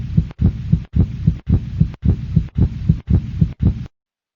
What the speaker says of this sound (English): Beneath the tough, fibrous coating of the heart, you can see it beating